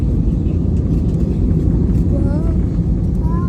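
Airplane cabin as the plane descends for landing: a loud, steady, low engine and airflow roar fills the space throughout, with faint murmur-like sounds above it.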